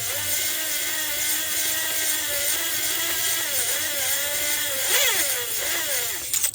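A handheld power drill driving a Lisle cylinder glaze breaker in an engine cylinder bore whirs steadily at high speed, its pitch wavering slightly, with a brief surge near the end.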